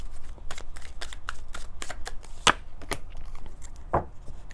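Tarot cards shuffled and drawn by hand: a steady run of soft, papery riffles and flicks, close and fairly quiet, with a couple of sharper snaps as cards are pulled out.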